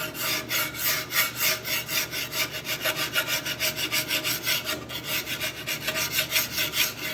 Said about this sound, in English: quickly and easily you can take the surface rust off of a table like this